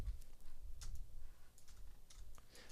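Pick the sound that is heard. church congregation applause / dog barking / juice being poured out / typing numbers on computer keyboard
typing numbers on computer keyboard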